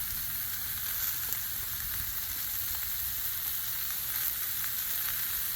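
Bean sprouts and pre-sliced onions frying on a Blackstone griddle, giving a steady, close, even sizzle with faint crackles that runs throughout without pause.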